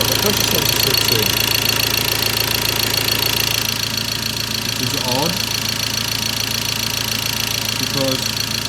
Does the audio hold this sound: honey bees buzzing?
no